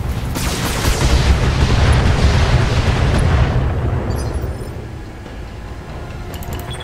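In the mech game Battletech, a Gauss rifle discharges with a heavy, booming explosive blast that rolls on for several seconds before fading into a rumbling tail, with a few faint crackles near the end.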